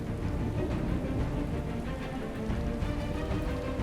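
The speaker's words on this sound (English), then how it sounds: "Rain falls for over 200 days each year." Heavy rain falling in Rwanda's lush mountains, a steady dense broadband hiss of downpour that stays even and continuous from start to finish, with no voices.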